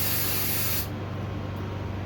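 A compressed air nozzle blows out the carburetor passages of a Yard Machines lawnmower, a loud steady close hiss that cuts off sharply partway through, leaving a fainter airy rush.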